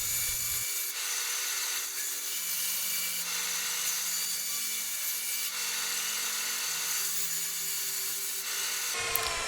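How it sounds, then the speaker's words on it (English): A bandsaw cuts wooden end caps from an offcut, its motor humming steadily close by while the blade rasps through the wood in a few long passes, with changing pitch between cuts and no talking. "I then trace the ends on an offcut and cut them as separate end caps on the bandsaw."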